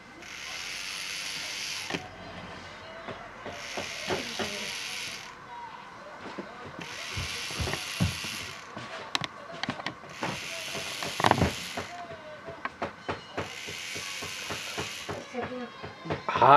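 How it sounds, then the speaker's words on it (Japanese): Small Doron-kun robot toy driven by remote control from a Nintendo 3DS, giving steady mechanical whirring and ratcheting with repeated clicks and creaks, broken by bursts of brighter high-pitched buzzing roughly every two seconds, fairly close. "3DS で、ドロン君を動かしてみます。"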